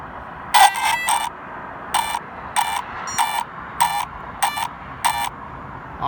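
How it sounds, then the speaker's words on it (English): Six electronic startup beeps from a Traxxas Slash RC car speed controller on a 6-cell battery: a rapid triple beep, then steady beeps in a regular rhythm over a low background hiss. "6 cells, it beeps 6 times"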